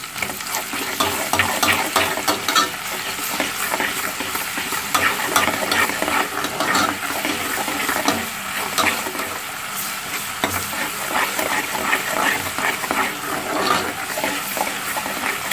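Plum tomatoes frying in hot oil in a Nigerian home kitchen, a steady dense sizzle with stirring scrapes running continuously and fairly close throughout.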